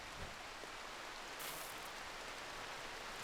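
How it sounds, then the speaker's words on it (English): Steady rain falling in RimWorld, a colony-survival video game: an even, dense hiss of rainfall that holds at one level throughout, with no voices over it. "Oh, rain."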